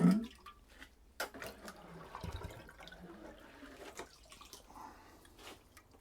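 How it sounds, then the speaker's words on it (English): Water poured from a can onto freshly sown seedlings in small cells, a soft splashing and trickling over damp compost, close and fairly quiet, with a few brief knocks and drips. "So I will water those first"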